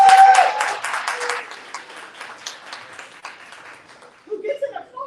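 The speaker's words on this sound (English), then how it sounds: "Who gets an applause from this crowd" A crowd at a bookstore author event bursts into close, lively clapping that tapers off over a few seconds before a voice starts speaking.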